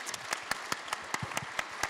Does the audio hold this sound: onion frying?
no